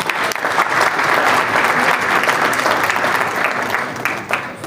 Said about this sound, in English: give him a rousing applause for President all